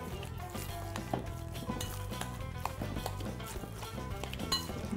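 Seasoned chicken stuffing for chtitha being mixed in a bowl, with steady scraping, clinking and squelching strokes that continue without a break, close up and with no voices.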